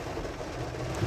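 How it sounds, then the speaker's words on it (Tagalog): Heavy rain pours outside a car parked at Alabang Town Center, a steady dense wash of drumming and hiss heard from inside the vehicle, continuous and fairly loud with no talking. "Malakas pa rin ang ulan."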